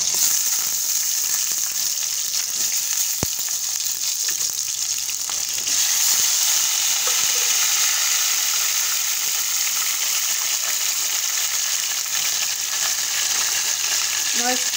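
Tomatoes tipped into hot oil with garlic for a village-style tomato rassa bhaji sizzle in a steady, loud, close fry that runs unbroken throughout, with a brief sharp tick early on.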